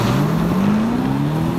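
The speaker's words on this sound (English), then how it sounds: "The DB12 already demonstrated that the AMG V8 engine could be easily pushed more to generate" A 2025 Aston Martin Vantage with an AMG V8 engine pulls steadily with a loud, close engine note that climbs in pitch as it accelerates throughout.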